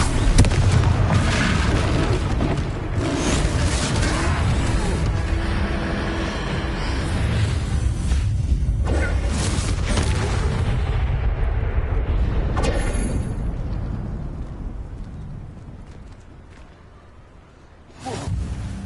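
A Confringo spell explodes in Hogwarts Legacy, loud booming blasts and whooshing rumble that fill most of the stretch before fading, with another burst at the end.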